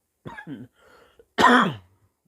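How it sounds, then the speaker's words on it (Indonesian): A few soft throat sounds lead into one loud, harsh cough close by, followed by silence. "Batuk saya agak parah nih."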